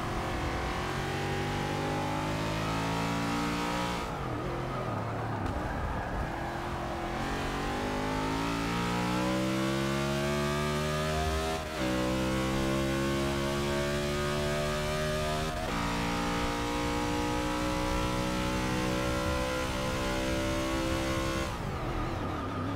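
NASCAR stock car engine in the Forza 6 racing game, revving and accelerating through repeated rising gear pulls with sharp drops between shifts, loud and continuous with no talk.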